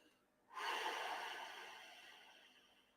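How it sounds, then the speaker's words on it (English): A single deep, forceful breath, part of a 4-7-8 breathing exercise, rushes in suddenly after a quiet moment and then slowly fades as it is held or released, close and breathy with no talk. "Inhale for 4 seconds. Hold it for 7. Exhale for 8 seconds."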